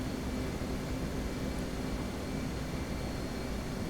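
An F/A-18C jet on approach in a flight simulator game: a steady, broad cockpit roar of engine and wind noise, constant and loud throughout with no talking.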